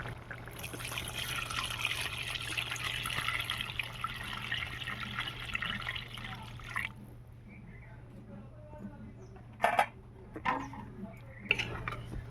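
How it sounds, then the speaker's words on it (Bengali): Water poured into a pot of chicken and potol curry gives a steady splashing pour for several seconds, then stops, leaving quiet clinks of utensils against the pot. "আমি এখানে জল দেবো।"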